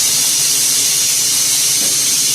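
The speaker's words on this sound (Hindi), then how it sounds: "अब हम सीटी उठा देते हैं ताकि इसके अंदर जितनी भी स्टीम जमा हुई है वो निकल जाए।" Steam hissing steadily out of a pressure cooker after its whistle is lifted, a loud, continuous close-up hiss with no talk.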